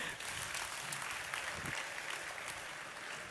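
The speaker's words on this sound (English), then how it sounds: "Give yourself a round of applause." A large convention audience in Munich applauds, a dense, steady wash of clapping that sounds distant and fairly quiet and holds without a break.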